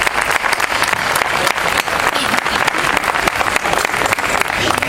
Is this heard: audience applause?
yes